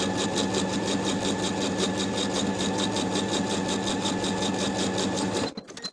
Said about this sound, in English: I'm going to edge stitch close to the upper inner fold all the way around to complete the hem.